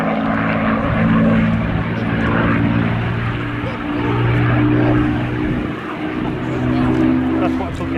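A Supermarine Spitfire flies at an air festival, its propeller engine droning loudly and steadily with a rising and falling tone, while a commentator talks over it.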